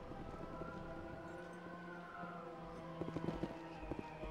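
Wailing sirens sound from the Mass Effect video game, their rising and falling tones layered over a busy game soundscape with some sharp clattering hits toward the end.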